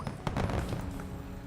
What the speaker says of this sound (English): at least we can do fireworks